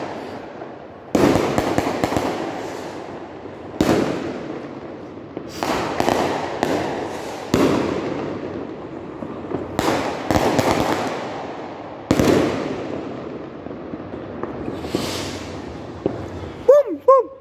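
Loud fireworks and gunpowder bursting in quick irregular volleys during December celebrations, sharp cracks and booms one after another, with shouting voices mixed in and whistling rockets near the end.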